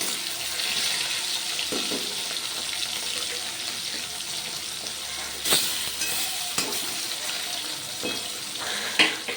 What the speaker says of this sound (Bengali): ভাজতে দিয়ে দিচ্ছি তেলের মধ্যে তেল গরম হয়ে গেছে অলরেডি